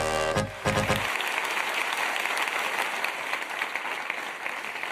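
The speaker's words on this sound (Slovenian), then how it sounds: "Jej, publika, da imamo bučen aplauz." Loud, dense applause from a studio audience backstage at a Slovenian folk-music television show, filling the whole stretch after a brief musical snippet at the very start, steady and sustained with no talk over it.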